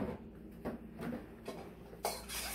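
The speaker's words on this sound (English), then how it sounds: "Stir it up really good." A fork clinks and taps against a bowl while a child stirs egg and milk together, giving a few light, uneven scrapes and knocks at close range, fairly quiet, with no talking.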